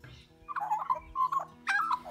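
Magpie vocalizing in a short burst of warbling, melodic chirps and calls, fairly close and clear, with brief pauses between phrases and no voices.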